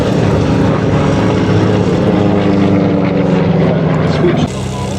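Propeller engines of a B-17 bomber, a WW2 aircraft, drone in a loud, steady low throbbing hum that fills the clip, dropping slightly near the end, with a voice faintly under it.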